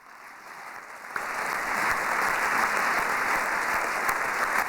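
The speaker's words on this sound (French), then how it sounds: "permettez-moi d'inviter sur scène et sous vos applaudissements nos deux conférenciers David Perroux et Harry Roselmack." An audience at a conference forum breaks into applause as two speakers are invited on stage, starting softly then swelling into dense, sustained clapping from a large crowd.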